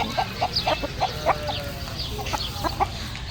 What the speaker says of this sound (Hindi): ये देखो मुर्गी इन्हें दिखा दो।